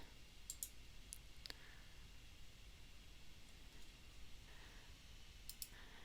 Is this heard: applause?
no